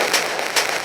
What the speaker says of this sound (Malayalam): ഇത് ഏതായാലും നമ്മൾ പടക്കമൊക്കെ പൊട്ടിച്ചിട്ടുണ്ട്